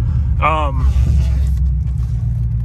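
A modified car engine rumbles steadily with deep, heavy aftermarket exhaust tone, while a brief voice sounds over it near the start.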